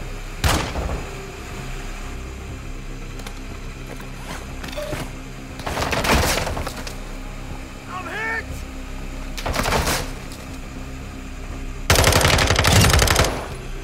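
Machine guns fire in long, loud bursts during a combat scene in a realistic military video game, with rapid crackling volleys separated by quieter gaps of distant shots, and voices shouting between them.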